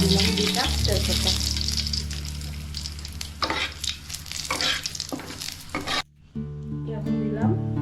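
Whole cumin, dried chillies and two bay leaves sizzle hard in hot mustard oil, a loud, close crackle with stirring clatter, briefly cutting out before the sizzle resumes.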